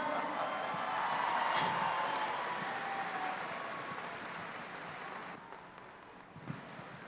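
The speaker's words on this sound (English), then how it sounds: "Let's give them a big round of applause" A crowd at the Miss Indian World pageant during the Gathering of Nations powwow applauds the proud parents: a fairly faint, distant wash of clapping with a few cheers, easing off partway through.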